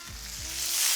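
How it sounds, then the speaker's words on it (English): Food sizzles in a hot oven, a bright hissing crackle that swells louder toward the end, with a few low thumps early on and no talking. "Ooh, look at that sizzle"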